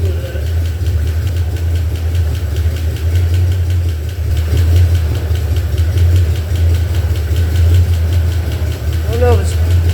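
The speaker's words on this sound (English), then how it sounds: "There's that click, click, click, click, click. Sounds like it's coming from the passenger side." A 302 V8 engine pulled from a junk truck and fitted to a 1976 Bronco, idling loud and close with a steady low rumble and a fast, even ticking running through it.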